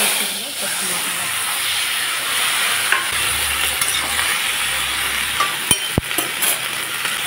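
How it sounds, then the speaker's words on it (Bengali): Vegetables including Malabar spinach stalks sizzle and hiss in hot mustard oil with five-spice seeds in a home kitchen, a steady loud frying hiss with a few clinks of stirring near the end. "এতে দিয়ে দিলাম সরষের তেল, সম্বারায় দিয়ে দিচ্ছি পাঁচফোড়ন, এবং সবজিগুলো দিয়ে দিচ্ছি।"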